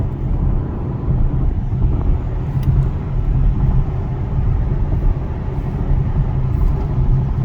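Polestar 2 electric car cruising on a road, a steady loud low rumble of tyres and road noise with no voices, continuous throughout.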